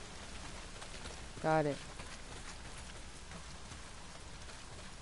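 Steady, soft rain patters continuously in the Days End video game, with a brief spoken remark partway through.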